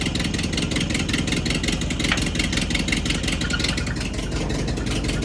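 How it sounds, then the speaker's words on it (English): A 1952 Ford 8N tractor engine runs steadily close up, its throttle being raised slightly so it rumbles loud and continuous with a rapid mechanical beat throughout, no voices. "gonna bring the throttle up just a little"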